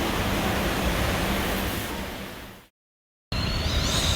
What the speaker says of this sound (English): That sound you're hearing is the sound of wind being forced through the seams of the front door.